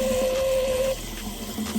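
Tap water running steadily into a home sink, a continuous close splashing hiss that eases slightly after the first second.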